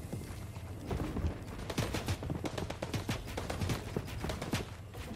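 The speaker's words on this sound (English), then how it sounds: "His teammate's shooting." A teammate's gunfire in the Fortnite video game, heard as a fairly distant, steady run of quick shots over a rumbling game background.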